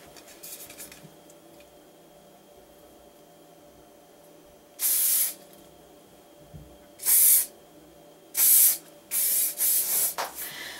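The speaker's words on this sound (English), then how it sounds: "I'm just going to give it one little spray down quickly." Hairspray misted onto pin curls during a date-night hair styling session: one long hissing burst, then several quick close spurts in succession, loud against a quiet room.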